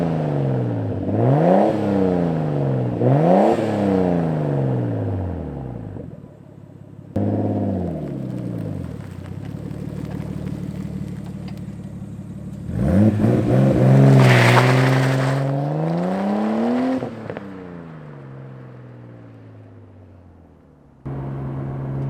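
A Nissan Skyline R33 GTS-t pulls away and accelerates hard, close up and loud. Its engine revs climb and drop repeatedly through the gear changes, ending in a long high rev and then a lift-off.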